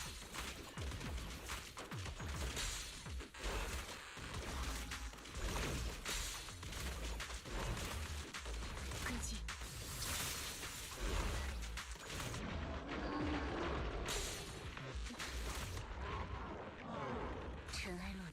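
Rapid, continuous gunfire and impact blasts from shooting in the video game Honkai Impact 3rd, dense and sustained, with a person talking over the game audio throughout.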